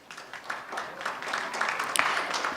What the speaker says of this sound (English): Let's welcome sir as well with a huge round of applause,